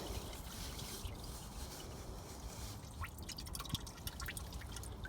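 Engine oil dripping and trickling from a slowly unscrewed oil filter on a 2016 Ford Edge 2.0 TDCi: quiet, irregular close drips over a soft steady trickle, with no talking.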